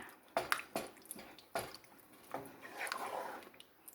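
A thickening paste is stirred into a pot of gluten-free chili made with ground sirloin, giving soft, wet squishes and spoon clicks in an irregular rhythm, close and fairly quiet, with no voices.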